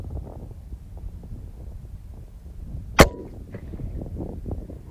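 A single sharp air rifle shot at a pumpkin at long range, one crisp crack standing out against steady outdoor wind noise.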